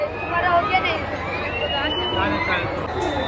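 Crowd hubbub at the Aagri Mahotsav festival, a steady babble of many voices close around with a voice talking over it throughout.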